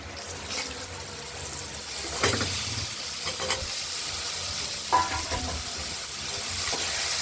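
Ridge gourd dropped into a pan of frying taro for a poppy-seed and milk curry, bringing a steady sizzle with stirring and a few soft clatters, no talking.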